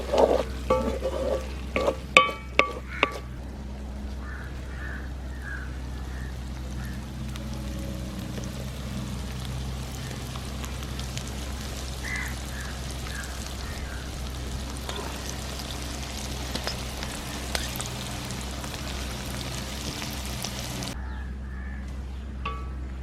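Shrimp dry fry sizzling steadily as it reduces in a pan, a continuous close hiss with a few brief clatters of stirring at the start and no talking.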